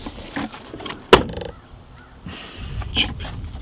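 Door of a 2015 Chevy Cruze shut once, a single sharp thud in the middle, with quiet background noise around it.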